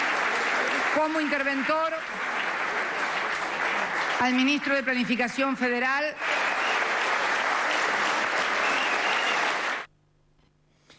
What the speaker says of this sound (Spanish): todos aplaudían